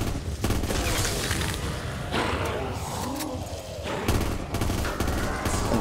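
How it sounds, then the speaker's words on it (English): Rapid bursts of gunfire from a modified five-round-burst rifle in Black Ops 3 custom zombies, loud and dense, with shots and booms repeating throughout amid game noise and a voice speaking. "Alright, this is a 5-round burst?"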